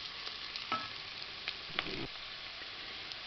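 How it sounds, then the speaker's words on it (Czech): Onion fries in a pan with a quiet, steady sizzle, broken by a few soft clicks of stirring, faint and close with no voices. "Tak, cibulka začíná chytat barvičku."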